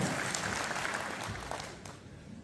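Audience applause at a national conference of the Akhil Bharatheeya Adhivakta Parishad, a lawyers' gathering, with a crowd clapping steadily and then fading slightly toward the end.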